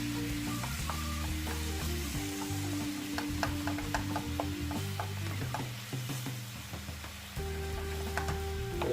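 Beef stock poured into a frying pan of onion gravy for bangers and mash, bubbling and sizzling steadily under clinking and scraping stirring sounds from a utensil, with no voices.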